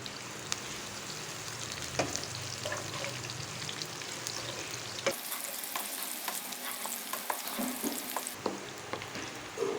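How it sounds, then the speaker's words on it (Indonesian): Shallots and garlic sauté in hot oil for a siomay seasoning paste, with a close, steady sizzle and frequent stirring scrapes throughout. "kita sisakan sedikit untuk menumis bawang putih dan bawang merah ya"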